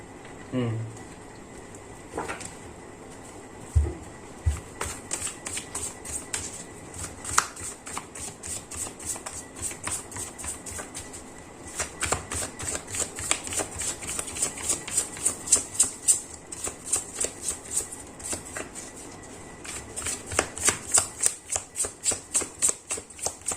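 Tarot cards are shuffled by hand in rapid riffling bursts, a quick rattling patter that comes and goes over several passes, close and fairly quiet, with a few isolated taps between rounds.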